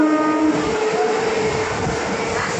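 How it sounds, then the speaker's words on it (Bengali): A train rolls along steadily after pulling out of the station on an evening journey toward Chinsurah, a loud continuous rumble with faint rail clatter and tonal hums running throughout, no voices. "আমরা ট্রেনে উঠে পড়েছি, আর ট্রেন ছেড়ে দিয়েছে"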